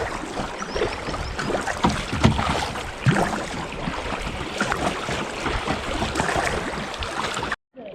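A kayak runs the rapids of the Raba river between Dobczyce and Gdów, with loud, continuous rushing and splashing water close by that cuts off abruptly near the end.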